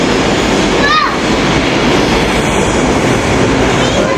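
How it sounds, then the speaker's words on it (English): A train rumbles along an elevated track overhead in a city, a loud steady roar with a brief metallic squeal near the start, heard from a bus below. "Train's going on top."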